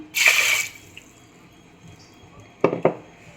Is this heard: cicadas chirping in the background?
no